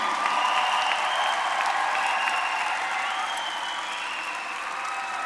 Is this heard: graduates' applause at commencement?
yes